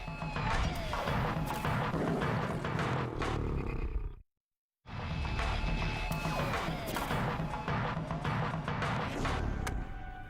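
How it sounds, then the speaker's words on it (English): Repeated loud metallic clanging and banging on a pot, harsh and ringing, broken by a brief silence midway. "the refugees may be attracting lions by banging the pot"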